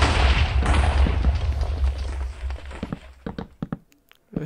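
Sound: gunfire in the VR game Overcast, Interitus map

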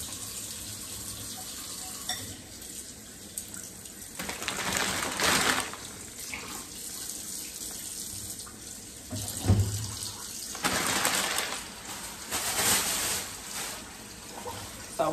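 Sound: tap water running while washing salmon in sink

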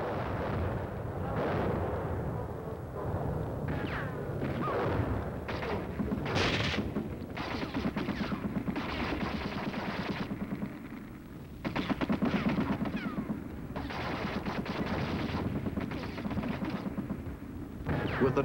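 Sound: artillery fire

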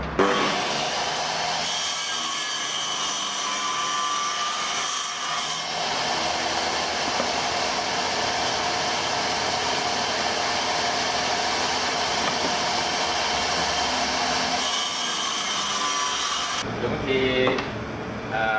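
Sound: wood trimmer cutting wood

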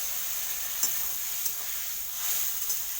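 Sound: mutton being sautéed with spices and water

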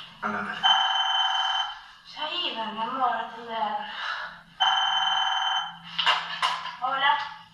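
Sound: telephone ringing

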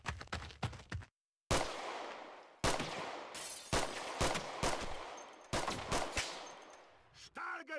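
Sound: Browning machine gun firing in a WWII video game

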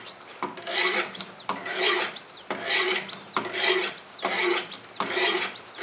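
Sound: sharpening a knife on a 100 grit whetstone

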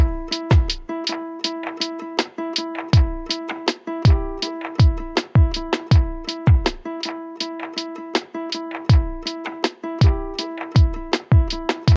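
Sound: guitars added to the beat

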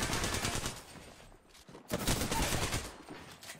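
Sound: gunfire in the video game Apex Legends

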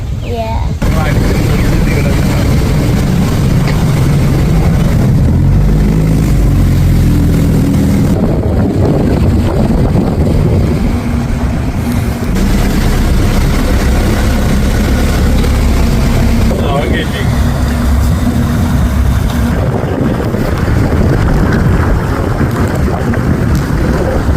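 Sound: speedboat engine during a ride

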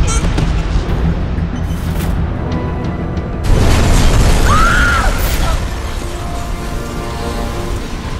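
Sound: oil truck explosion on a bridge, from video game Batman Arkham Origins

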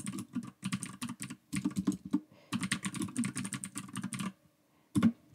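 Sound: typing on a computer keyboard

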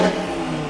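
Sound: Audi TT car engine revving in sport mode

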